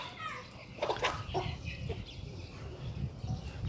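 Chickens, including white broilers, cluck softly while pecking at scraps spilled out on the ground, with scattered faint calls and small splashy sounds in a quiet yard.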